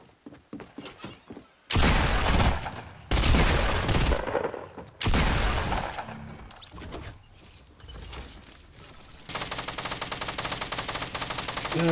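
Rapid automatic gunfire and heavy bursts of shots in Fortnite Battle Royale, with scattered single shots at first, then long loud volleys and a steady rattling burst toward the end.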